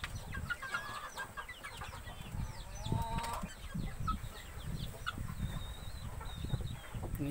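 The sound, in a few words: free-range chickens clucking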